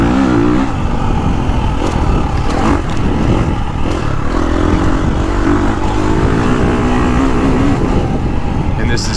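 A 350cc four-stroke dirt bike with an aftermarket exhaust revs and barks continuously under load, loud and close, with clatter and a voice mixed into the engine roar.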